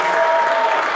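A concert audience at an indoor rock event applauds a band, dense steady clapping filling the whole brief moment at an even level.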